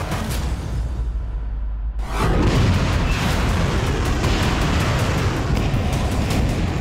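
A Russian Iskander missile strikes a Ukrainian army headquarters in Kharkiv: a sudden heavy blast erupts after a quieter rumble, followed by a sustained loud roar of debris and rushing noise.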